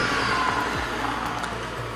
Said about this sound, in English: you have the pure and direct pulsations by the engine near to the ear